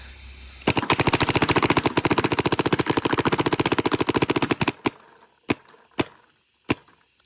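An Angel Speed paintball marker fires a rapid burst of roughly forty close, loud shots, then three spaced single shots follow with quiet gaps between them.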